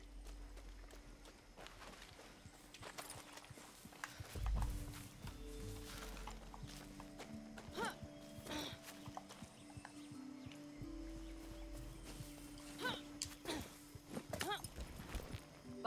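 Horse hooves clip-clop at a steady walking rhythm while a rider travels on horseback in the video game Far Cry 6, moderately close, with a short louder thump partway through and occasional faint background sounds.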